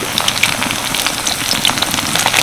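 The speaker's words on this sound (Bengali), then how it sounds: "মোচাগুলোকে বেশ সুন্দর করে ভেজে নিলাম এবার আমি তেল থেকে তুলে নিচ্ছি" Banana flower fritters sizzle in hot oil, a close, steady crackling hiss with dense popping bubbles throughout.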